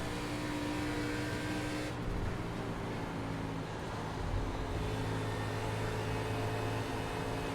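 A race car engine from the iRacing video game, in an ARCA Menards Series race at Atlanta, holds a steady, moderately loud drone with a slight shift in pitch partway through.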